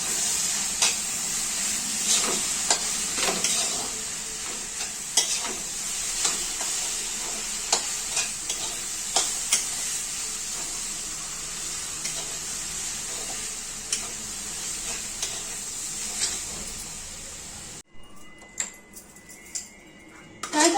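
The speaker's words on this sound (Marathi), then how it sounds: "करायचं हे असं मंद गॅसवर छान असं परतून घ्यायचं" Betel leaf paste sautéed in a pan over a low flame for modak filling, with steady scraping strokes of a spoon against the pan over a gentle sizzle. The sound stops abruptly near the end.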